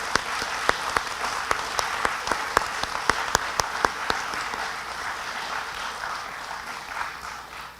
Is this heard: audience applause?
yes